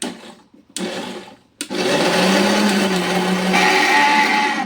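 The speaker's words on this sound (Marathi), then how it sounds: "आणि बाकीचं आता मिक्सरला मी फिरवते" Mixer churning cream into butter, starting with two brief bursts separated by pauses, then running loud and steady with a whirring motor drone that holds close and unbroken to the end.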